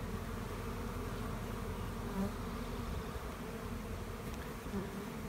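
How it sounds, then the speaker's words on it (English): Honeybees fly around a hive on a cool early morning, a dense, constant buzzing drone that is loud and close and continues without a break. "The bees were just that much more active 10 minutes later in the day."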